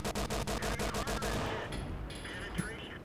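Tank cannon fire in World of Tanks from a Panzer IIJ: a rapid volley of about nine sharp, loud autocannon-style shots in even rhythm, then fading rumble and faint tonal game effects.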